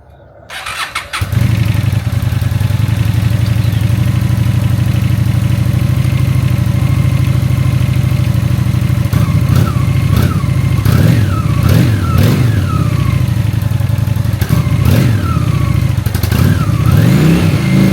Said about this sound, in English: turn on the engine so you can hear it before we go